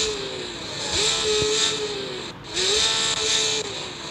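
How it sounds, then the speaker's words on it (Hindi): Porsche GTS engine in the game Car Parking Multiplayer, revving up in two rising throttle blips that hold then drop, loud and close with a steady idle between. "चलो एक और बार थ्रोटल लेता हूँ।"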